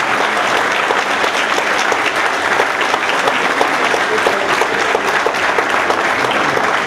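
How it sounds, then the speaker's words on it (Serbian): An audience at an annual folk ensemble concert applauds, a dense steady clapping from a large crowd that fills the hall evenly from start to finish without voices. "Čuo sam vaše aplauze njima"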